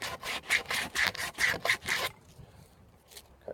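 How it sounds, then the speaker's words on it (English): A wooden body of a fretless headless bass is sanded by hand in rhythmic back-and-forth rasping strokes, about eight close strokes, followed by quiet with a couple of faint scrapes. "Right, I'm going to stop with the sanding for tonight."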